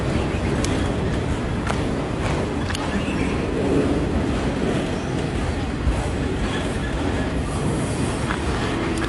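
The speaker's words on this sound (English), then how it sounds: "It's a long one." A long CN freight train rolling past at close range in New Haven, Michigan, a continuous heavy rumble with rhythmic clicks of wheels over rail joints, steady and loud throughout.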